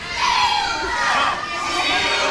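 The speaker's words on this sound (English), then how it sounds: "Crowd chanting steel toe." Crowd at a ProSouth Wrestling event chants during a match, a dense roar of many voices rising and falling close by, with shouting layered over the rhythmic chant.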